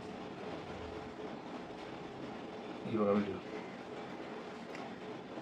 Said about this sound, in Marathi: आता ती ट्रेन येतात, ट्रेन गेली आहे बघा.